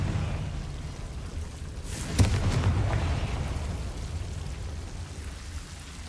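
Confringo blasting spell cast in Hogwarts Legacy on PS5: one sharp, loud burst that fades into a rumbling tail over a steady low game background.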